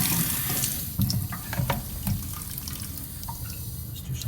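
A tap runs steadily into a sink while a razor is honed nearby, a continuous close splashing hiss with a few louder drips and clinks.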